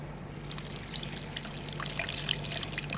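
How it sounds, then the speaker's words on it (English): A pH electrode is rinsed with a thin stream of water, giving a soft continuous trickle and splatter over a low background hum. "Really rinse my electrode because I want to get a good reading."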